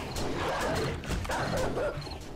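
A dog barking in the survival horror video game 7 Days to Die, a run of quick repeated barks and yips, fairly close and moderately loud over game background noise.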